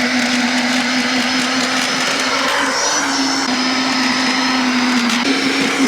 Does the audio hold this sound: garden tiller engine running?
yes